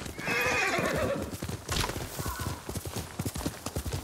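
A horse in Ghost of Tsushima neighs loudly, then hooves clip-clop in a quick galloping rhythm, close by, with a faint rushing background.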